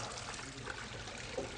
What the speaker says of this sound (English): We're going to put down a light amount of water